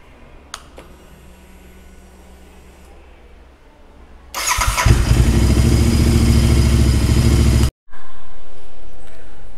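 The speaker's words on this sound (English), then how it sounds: "you can see the difference in when I crank up the engine" Royal Enfield Interceptor 650 motorcycle fitted with new iridium spark plugs cranks and fires instantly, settling into a loud, steady idle close by after a quiet start, then cutting out briefly before running again.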